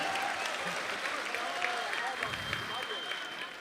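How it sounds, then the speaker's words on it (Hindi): Audience applause at the Aligarh Mushaira poetry gathering in Dubai for poet Altamash Abbas, a steady dense clapping from a large crowd that holds for the full few seconds with faint voices mixed in. "तालियां बजा दीजिए अल्तमश अब्बास के लिए"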